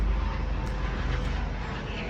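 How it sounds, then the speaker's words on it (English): Helicopter flying overhead above a small farm in Ghana's capital city, a steady, loud rotor and engine drone that fills the short clip, with no voices heard. "Oh, a helicopter, rather."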